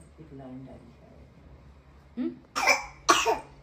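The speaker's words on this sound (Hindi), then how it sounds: "खांसी हो रही बेटू को" A young child coughs three times in quick, harsh bursts, close by, after some quiet background talk.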